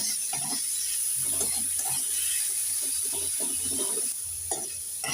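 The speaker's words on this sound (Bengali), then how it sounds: "এবার দিয়ে দেব গ্রেট করা মূলো এক মিনিট নেড়ে চেড়ে ভেজে নেব" Grated radish fries in oil with black cumin (nigella seeds) and is stirred about for a minute, making a continuous close sizzle with repeated scraping strokes of a spatula against the pan. No one speaks.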